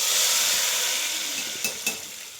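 Tempering for moong dal sizzles in hot oil in a pan, a close, continuous hiss that eases slightly, with two sharp metallic clinks of a utensil against the pan near the end.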